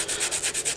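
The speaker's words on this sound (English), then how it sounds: "I'm gonna quickly grab a piece of sandpaper and get that edge taken care of." Fine 320-grit sandpaper rubs back and forth across the edge of a 3D-printed plastic helmet visor cutout in quick, even strokes, about eight rhythmic scratchy passes close up, with no talking.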